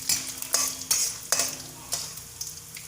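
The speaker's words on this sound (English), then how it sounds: "Now add groundnut." Groundnuts frying in oil in a pan for mango rice, with a soft steady sizzle broken by several sharp scrapes and clinks of a spoon stirring against the pan.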